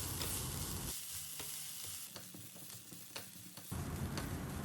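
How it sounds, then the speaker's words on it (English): Minced onion, ginger and garlic sauté on a medium flame, a steady close sizzle broken by the scrape and clack of a stirring spoon against the pan, with the hiss easing briefly mid-stir before swelling back. "We'll saute them well on medium flame until they turn golden brown"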